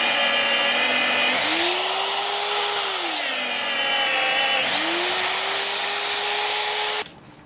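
Magnetic drill with an annular cutter boring through steel on a farm shed build, a loud continuous motor whine whose pitch dips and recovers twice under load, then stops abruptly at the end.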